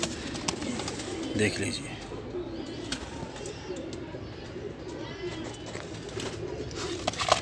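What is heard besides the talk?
Sialkoti high flyer pigeons cooing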